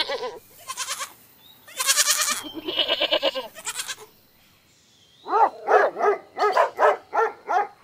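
A dog barks in a rapid run of sharp, close calls, loud and evenly spaced toward the end after a few earlier yelping bursts, with no talking.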